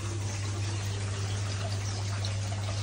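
Water pours steadily from a pond waterfall in an outdoor pond holding about 1,500 to 2,000 gallons, a constant splashing rush with a low pump hum, close and continuous with no talk.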